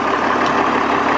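A Case 1896 tractor diesel engine running, a steady loud rumbling drone close by with no pauses or talk.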